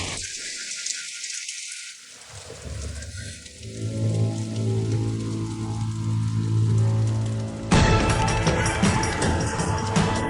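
Heavy rain hisses steadily as a broad wash of noise, growing denser and louder toward the end, under a sustained low tonal drone.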